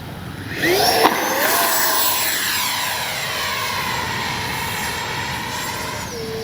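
A Freewing F-35 RC model jet makes a loud, close whoosh as it sweeps past on its first flight. The high-pitched turbine whine rises, then slowly fades and shifts pitch as the jet pulls away. No one speaks.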